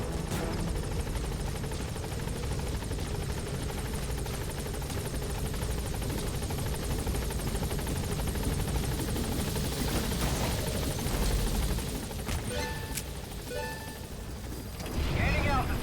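A helicopter from Metal Gear Solid V: The Phantom Pain drones steadily with constant rotor noise throughout, its thick rumble briefly joined by sharper in-game sounds near the end.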